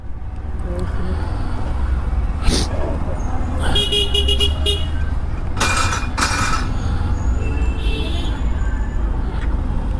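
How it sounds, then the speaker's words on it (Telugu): Dense, heavy road traffic on a city street heard from a motorbike, with several loud car horn honks in short bursts rising over a constant low engine and tyre rumble. "మామూలు ట్రాఫిక్ కాదు, ఇక ఎక్కువ ట్రాఫిక్ ఉంది."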